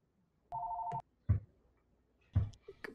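During a Zoom recording of a keynote talk, a phone gives a single short electronic ring tone, followed by two dull knocks or handling thumps, all in a quiet room.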